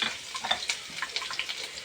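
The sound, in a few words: frying tempering spices, dried chillies, garlic, curry leaves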